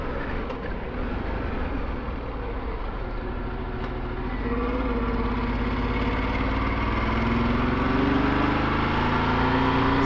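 A motorbike engine runs steadily at idle outdoors on an overcast day before a ride to the Dereham Bike Rally. It gives a continuous low rumble that builds a little toward the end.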